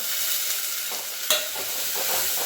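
Dried red chillies and curry leaves sautéing for rasam, a bright continuous hissing sizzle with one sharp clack of a spoon against the pan midway.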